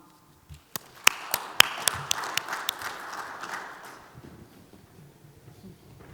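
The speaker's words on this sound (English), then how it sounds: "Please welcome to the stage with a warm round of applause," A handful of sharp, separate claps start the welcome for a company president walking onstage, then thicken into softer, scattered audience applause that fades out over several seconds.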